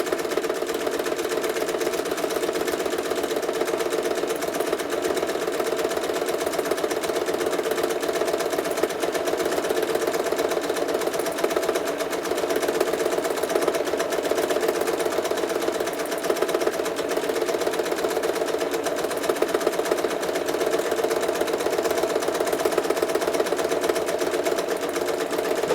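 A sewing machine stitches in the ditch along a quilt's seams, a steady, continuous mechanical whir with a fast rhythmic hum running alone at an even, close level throughout.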